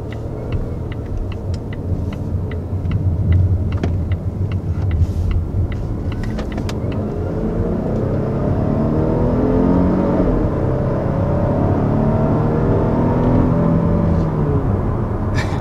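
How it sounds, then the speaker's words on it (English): A 2020 Volvo S90 R-Design on the move, its engine and road noise forming a steady, close rumbling hum with a smooth whir that holds evenly for the whole stretch, with no talking. "So this is our first time behind the wheel of this Volvo S90."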